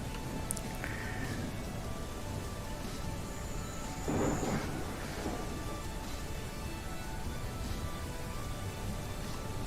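A storm in a dinosaur survival video game brings a steady hiss of rain, and a rumble of thunder swells around the middle before fading back into the rain.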